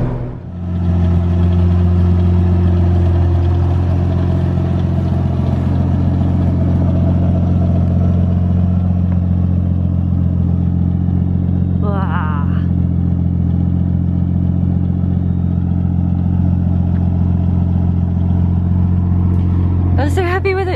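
Steady loud engine drone and road noise from a car cruising home on the street, continuous and close from inside the cabin, with a couple of faint brief chirps near the middle and end.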